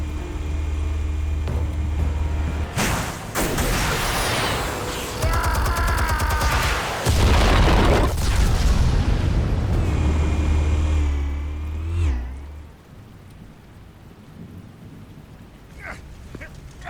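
Explosives detonating in the Telltale Batman game, a heavy, loud, rumbling blast sequence with crackling debris that rolls on for several seconds before fading into quieter ambience.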